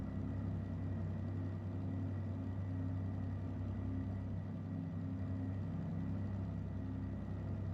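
Steady diesel engine drone from a DE6 diesel locomotive in the train game Derail Valley, a continuous low rumble with a constant hum, running alone at moderate level while the overheating engine keeps working.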